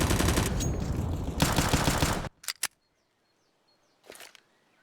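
Rapid automatic gunfire crackles in a dense burst in a Counter-Strike match on the Inferno map, then stops abruptly, followed by a few short sharp shots and a faint later pop.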